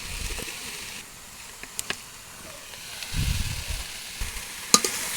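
Dekchi greens sizzle and hiss in a hot pan as they are stirred, with soft scraping and rustling bursts and a few sharp clinks against a steady, quiet frying background.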